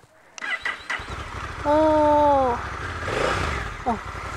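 A Honda NT1100 motorcycle with no clutch lever starts up for a test ride, its engine catching and settling into a steady low pulsing idle close by while people talk over it.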